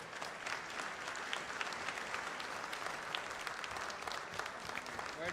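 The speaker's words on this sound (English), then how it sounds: "They deserve a much bigger round of applause." Audience at SKF's 100th anniversary celebration in Bengaluru applauds, a continuous crowd clapping at fairly low volume with scattered sharper claps throughout, steady for the whole stretch.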